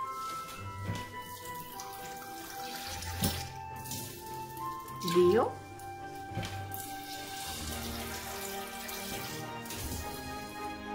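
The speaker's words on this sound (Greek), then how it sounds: "Βάζουμε λοιπόν στο σκεύος που έχουμε της AMSE 3 ποτηράκια τα ίδια του κρασιού νερό." Water is poured from wine glasses into an AMSE cooking pot for a lentil dish, giving a few short splashing pours separated by pauses while a voice counts quietly.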